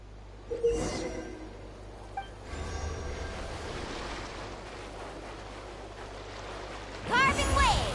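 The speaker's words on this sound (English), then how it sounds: "Carving waves!" Surfing across ocean waves in the Genshin Impact video game: a steady rushing wash of water and wind whooshes, with a louder splash near the end.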